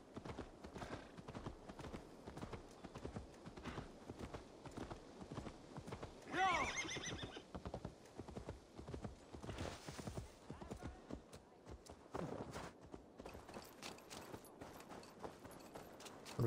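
In Assassin's Creed Valhalla, a horse's hooves clop rhythmically and close while a loud neigh breaks out partway through, followed by continued hoofbeats and a few snorts.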